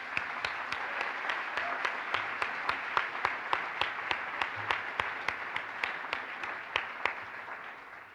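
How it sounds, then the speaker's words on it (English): At a graduate diploma ceremony, a distant audience applauds, a steady bed of many hands with a few sharp individual claps standing out at a regular pace, soft and even throughout. "please join me in a round of applause for them as well"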